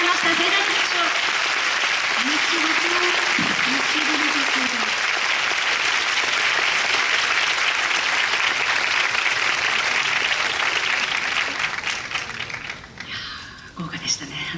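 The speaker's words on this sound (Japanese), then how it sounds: "盛大な拍手を。" Sustained applause from a large audience at the opening ceremony of the French Film Festival 2017, dense and steady for most of the stretch, with a few voices rising over it early on before the clapping thins out and fades near the end.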